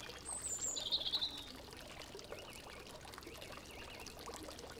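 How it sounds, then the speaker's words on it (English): Water trickles and pours steadily at a gentle level from a garden water feature, with birds chirping briefly overhead early on. "this water feature has some very relaxing sounds"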